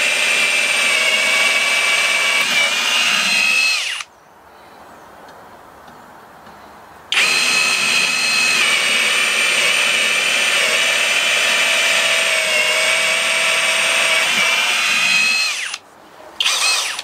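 A HOTO 12V brushless drill whirs loudly and steadily while boring a pilot hole, running about four seconds, pausing, then running again for about nine seconds before stopping with a brief final burst.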